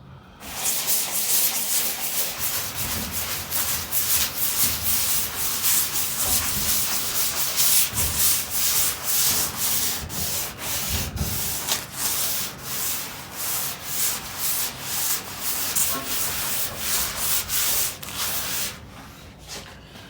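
Heavy-grit sandpaper scrubs across the rusty body of a Jeep being prepped for a Rustoleum paint job, a close, continuous rasping with rapid back-and-forth strokes and no talking.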